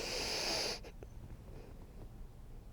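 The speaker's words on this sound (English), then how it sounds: "take a breath in" A slow inhale during a pregnancy back-and-hip exercise, a brief breathy rush near the start that fades quickly, close and quiet with no talking over it.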